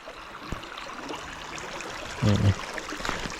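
A forest waterfall tumbles over rocky rapids into a reservoir, a steady close wash of flowing water with a brief louder burst partway through.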